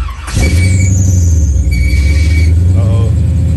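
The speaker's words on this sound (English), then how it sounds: "As y'all hear now, y'all hear the fuel pump kicking on." A car's fuel pump kicks on with a loud, steady whine and hum, joined by a high squeal and a low rumble that hold for a few seconds close by.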